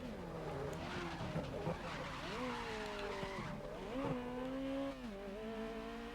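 Ferrari tires skidding and squealing in a racing video game, sustained wavering screech with engine drone across several seconds, loud and close, with some background talk.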